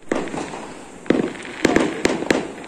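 Fireworks shot being set off outdoors, a series of five or six sharp, loud bangs in quick, uneven succession, with no talking.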